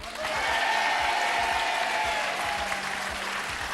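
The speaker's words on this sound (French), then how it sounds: "Applaudissez encore une fois Émilie et Julien." A studio audience at a French TV game show applauds steadily, a dense wash of clapping that holds at an even, loud level throughout.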